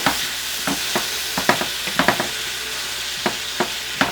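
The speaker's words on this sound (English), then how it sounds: "deglazing the bottom of the pan with that" Braised beef ingredients sizzle steadily in a hot pan during stirring and deglazing, with a constant close hiss punctuated by about a dozen sharp scraping clicks of the utensil against the pan bottom.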